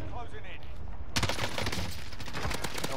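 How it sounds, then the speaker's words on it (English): Gunfire in the Call of Duty Warzone video game erupts abruptly after a quiet start, a dense burst of rapid shots continuing steadily at moderate loudness with voices talking over it. "They're shooting."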